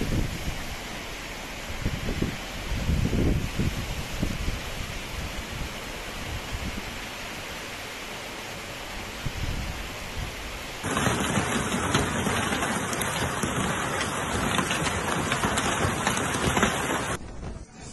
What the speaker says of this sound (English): Meteorologists say the storm dumped over the 8 mm of rain in just 1 hour